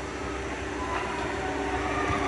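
A children's train ride at an amusement park rolls past with a steady, continuous mechanical rumble and rail clatter, fairly close and unbroken for the whole moment, with no talking over it.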